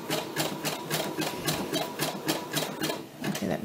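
A Brother SE-400 sewing machine stitching applique on fine fabric, running in a quick regular rhythm of needle strokes, close and fairly quiet, with no voices over it.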